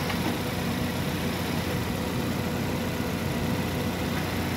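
A car engine runs at a steady idle after a fuel pump repair, a constant dense rumble close by with no break and no voices.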